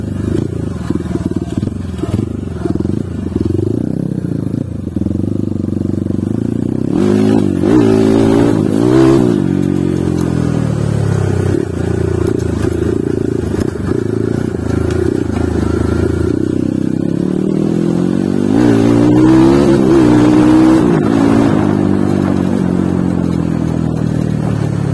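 A Kawasaki KLX 140 dirt bike, bored up to 170cc with a 63mm bore, stock stroke and stock valves, revs hard in second gear. Its engine drones loud and close, repeatedly rising and falling in pitch throughout.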